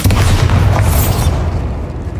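A Bombarda explosion spell in Hogwarts Legacy, a loud, close, low booming blast with a rushing, crackling sweep that fades over about two seconds.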